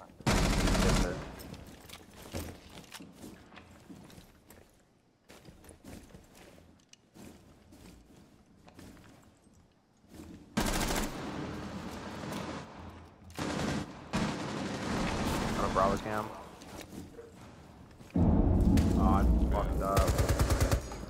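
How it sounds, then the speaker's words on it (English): Heavy gunfire from a shotgun in a fast-paced online shooter tournament match, loud repeated blasts in dense bursts mixed with rapid weapon fire and occasional quieter gaps of footsteps and movement. "I'm just gonna shotgun and impact it."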